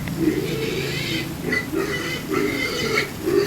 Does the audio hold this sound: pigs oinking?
yes